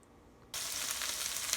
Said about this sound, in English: we finally have some heat going on the veggies